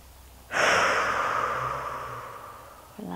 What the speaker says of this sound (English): So keep on breathing, inhale.